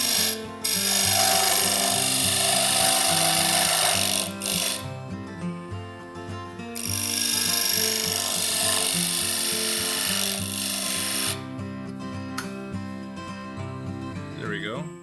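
A wooden column spins on a lathe while a tool cuts it, a loud steady shrill hiss with a motor hum, broken by a few short pauses.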